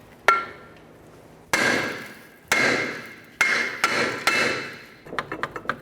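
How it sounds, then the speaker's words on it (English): A hammer strikes a seized rear wheel hub on a 1999-2003 Toyota Solara to free it. Five sharp metallic blows ring out close and loud with pauses between them, followed by a quick run of lighter taps. "Now let's move along to using our hammer."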